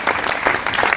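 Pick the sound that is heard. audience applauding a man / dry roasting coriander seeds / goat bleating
audience applauding a man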